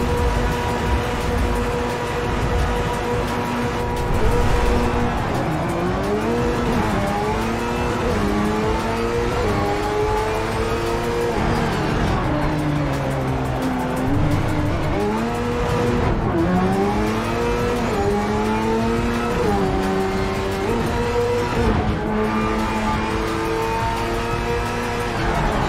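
Race cars in Project Cars 3 accelerate off the start, engines revving loud and close as the pitch repeatedly climbs through each gear and drops at the shifts, with other cars droning alongside throughout.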